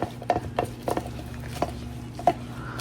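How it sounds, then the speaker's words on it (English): A milky mixture being stirred in a container, a utensil knocking against its sides in about seven distinct taps at an irregular pace over a steady low hum, with no talking. "Gonna want to mix that really good."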